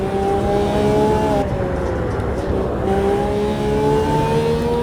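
A Lamborghini Revuelto engine in the Automobilista 2 racing game on a modded track, revving hard with its pitch climbing, dropping at a gear change, then rising again as it races steadily and loudly.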